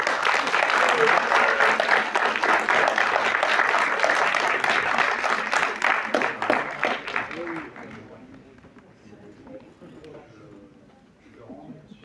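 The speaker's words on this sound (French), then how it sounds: "On peut les applaudir." Audience applause at a Spider-Man quiz evening in a Cap Ciné cinema in Blois: dense, loud clapping for about eight seconds that thins out and fades, leaving quieter room sounds and faint talk.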